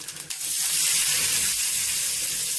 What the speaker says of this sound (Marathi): कांदा आपल्याला छान प्रकारे तेलामध्ये फ्राय करून घ्यायचा आहे